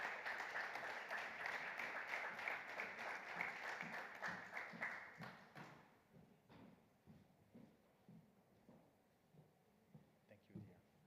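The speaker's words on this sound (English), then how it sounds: "under your applause" An audience applauds to welcome a guest speaker, the CEO of a production company, at a live conference event; dense clapping for about six seconds, then thinning to scattered claps and thumps with a voice talking.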